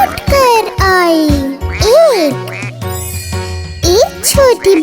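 A singer's voice imitates a mother duck's quack in a Hindi children's rhyme about little ducklings, sung over a bright, jingling nursery-music backing with a child-like vocal melody.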